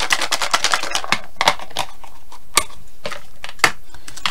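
Small paper slips shaken and tumbled inside a jar for a prize draw, giving a quick run of dry rattling taps that thins into a few scattered clicks, close and fairly loud with no talking.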